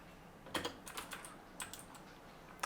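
Quick, crisp keystrokes on an RK68 mechanical keyboard tap out in short bursts, close and fairly quiet, with brief pauses between runs of typing.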